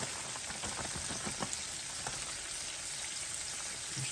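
Chicken breast pieces frying in a full skillet for sweet and sour chicken, a dense, even sizzle with light crackles and a few soft scrapes, close and steady, with no one speaking.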